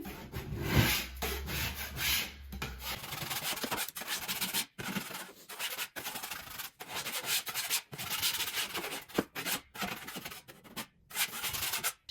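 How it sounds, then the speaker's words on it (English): A putty knife scrapes dried drywall mud bumps off a patched wall in steady rough strokes, close and fairly loud, with brief pauses between passes and no talking. "I'm just going to be scraping them off with my knife."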